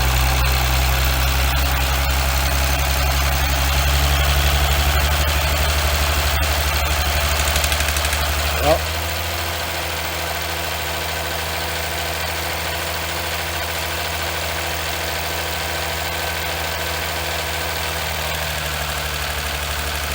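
A Chrysler 300C with a Mercedes engine idles with a steady low drone and an injector fault, its tone dropping slightly partway through after a brief bump; someone utters a short exclamation.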